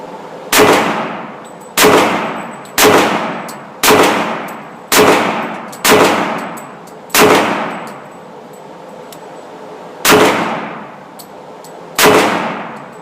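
Handgun shots from a comparison of an HK and a Glock pistol, nine sharp loud reports, evenly spaced about one second apart in two groups with a short pause between, each followed by a brief ringing decay.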